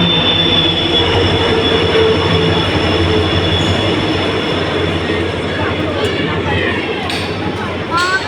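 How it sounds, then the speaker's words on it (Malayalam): A train arriving at a station, loud rumbling wheels and clattering carriages with high squealing of the wheels growing toward the end, while voices talk faintly in the background. "നമ്മൾ ട്രെയിൻ ഇതാ വന്നോണ്ടിരിക്കാണ് കേട്ടോ"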